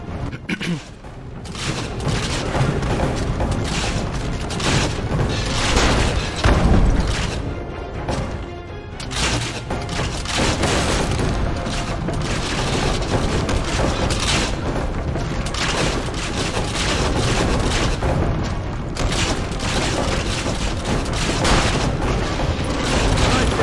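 Big guns in Assassin's Creed: Revelations fire in a dense, continuous barrage of loud booms and crashing impacts, sustained and close for over twenty seconds without letup.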